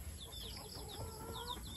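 A brood of 103 young chicks, just vaccinated against Lasota and IB, peeps steadily, with many high chirps overlapping in a busy chorus close by over a constant background hum.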